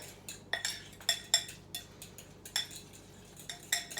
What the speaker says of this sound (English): then you're just gonna mix it all together